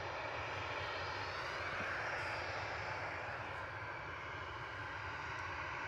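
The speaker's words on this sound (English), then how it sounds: "I can see the A380 coming" An Emirates Airbus A380 arriving at Manchester Airport gives off a steady, broad engine roar that stays loud and continuous throughout, with no talk over it.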